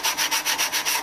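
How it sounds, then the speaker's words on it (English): Sandpaper rubs by hand across a wooden checkerboard in quick, rhythmic back-and-forth strokes, about five close, loud scratchy passes in a second with no talking. "You're going to sand like that until the scratching is off."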